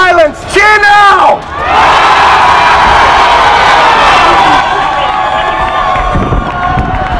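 Large crowd at a Sydney protest rally cheering and whooping loudly, a sustained roar of many voices lasting several seconds after a couple of brief chant bursts.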